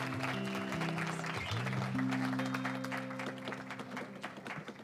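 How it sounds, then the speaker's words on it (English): A congregation gives a round of applause, with clapping that sounds fairly distant and moderate under sustained musical tones and some voices. "Big round of applause."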